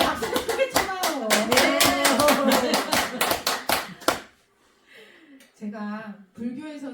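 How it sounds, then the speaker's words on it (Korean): Loud, close clapping from a temple audience at a Buddhist dharma talk, rapid and sharp for about four seconds before stopping abruptly, followed by quiet and then a voice speaking. "박수 좀 크게 쳐봐요."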